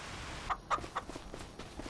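Chickens cluck in a few short, quick notes on a farm in Farming Simulator 25, faint and close with soft rustling underneath.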